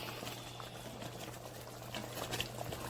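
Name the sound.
stirring fresh cilantro into a simmering chicken dish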